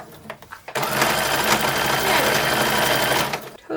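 A sewing machine stitches a hem and lace together, its rapid rhythmic chatter running steadily for about three seconds after a few short taps.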